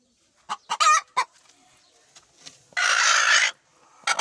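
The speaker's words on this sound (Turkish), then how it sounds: "Beyaz tavuğumuz da burada." Nearby chickens cluck in short sharp bursts, followed by a longer harsh squawk, then more clucks, with quiet pauses between.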